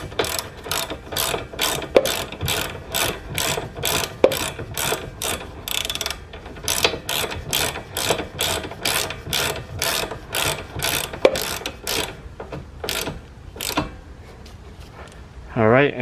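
A socket ratchet tightening the 19 mm outer tie rod nut on the front suspension of a 1999-2003 Acura RSX, a fast steady run of sharp clicking strokes up close, pausing briefly midway, with a voice speaking over it.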